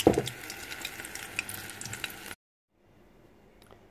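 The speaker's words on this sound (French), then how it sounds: "vous la faites cuire par petits tas et ça vous fera des petits beignets au fromage" Leftover corn dog batter dropped in small mounds into hot oil and frying into little cheese fritters, a steady bubbling sizzle with faint crackles that stops abruptly partway through, leaving near silence.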